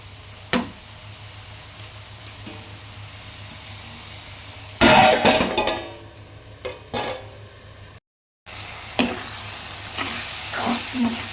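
Tomatoes with salt and turmeric cook in a pan as a lid goes on, giving a low steady sizzle broken by a burst of stirring and clinking of pot and utensil, then a brief silence and softer scraping.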